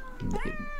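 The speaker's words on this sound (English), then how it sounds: "I've got 2 cats and they are both noisy bastards." A house cat meows once, near and clear, with rising and falling tonal cries under a faint background hum.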